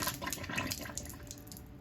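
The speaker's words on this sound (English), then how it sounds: "Yeah, there we got water that came out." Water drains from a camper's drain during winterizing, splashing and gurgling out in a quiet, continuous trickle, with scattered small drips and spatters over a steady low rush.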